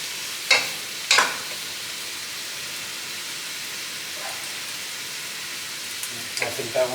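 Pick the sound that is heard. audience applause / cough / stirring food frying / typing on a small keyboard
stirring food frying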